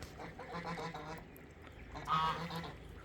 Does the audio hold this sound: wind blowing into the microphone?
no